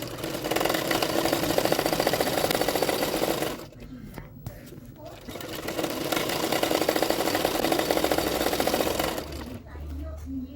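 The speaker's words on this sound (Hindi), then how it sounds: "एक एक पार्ट इसी तरह से किनारे किनारे पे सिलाई करते जाऊंगी" A sewing machine runs in two sustained bursts, joining blouse lining fabric to the main fabric along the edges, with a steady mechanical whir and needle rhythm close up, someone speaking over it.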